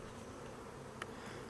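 Bees buzzing around an opened backyard hive as it is taken apart, a faint steady insect drone low in the background with one brief louder close pass.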